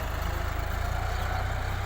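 A tractor engine chugs on a leveled farm field where grass is being planted, giving a steady, low, throbbing rumble with no voices.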